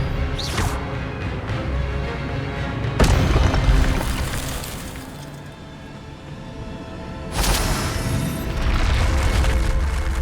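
An Expelliarmus spell cast in Hogwarts Legacy lands as sharp, bright bursts, about three of them spaced several seconds apart, over a dense, steady bed of game sound.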